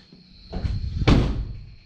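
A modified Cummins truck door swung closed and latching shut with a firm, solid thunk after a brief rustling movement, close up and with no talking.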